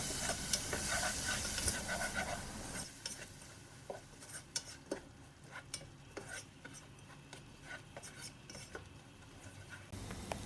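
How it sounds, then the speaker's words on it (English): Garlic spice mix, rinsed out with water, sautés in oil over low heat, heard as a soft hiss with repeated scraping and clinking of a spoon against the pan. "On a low heat, saute for half a minute."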